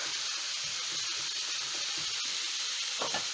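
Minced meat for a homemade pizza fries in a pan with a continuous, dense sizzle. A spatula breaks the meat up, making soft scraping taps, with one clearer scrape near the end.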